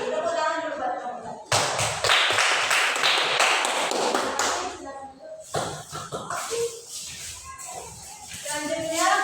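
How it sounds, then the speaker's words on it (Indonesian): A group of children in a classroom clap together in a loud, sustained burst of applause that starts abruptly, thins briefly in the middle, then picks up again. "Tepuk tangan dulu buat kamu."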